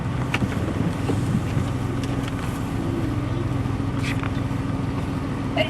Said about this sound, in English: There's a vessel moving across here quite close alongside.